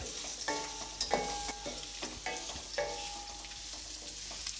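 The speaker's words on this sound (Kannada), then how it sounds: "ಈಗ ಆಲೂಗೆಡ್ಡೆನ ಇದರಲ್ಲಿ ಚೆನ್ನಾಗಿ ಮಿಕ್ಸ್ ಮಾಡ್ಕೊಳ್ಳಿ" Boiled potatoes being stirred into pepper rice masala in a frying pan, with repeated scraping strokes and a soft, steady sizzle underneath, close and fairly quiet, no voices.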